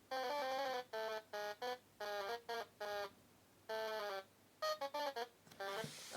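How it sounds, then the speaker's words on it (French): A buzzer sounds in a run of short, harmonic electronic bursts, some single and some in quick pairs, fairly loud and clear against a quiet background with no talking. "Attention, le buzzer."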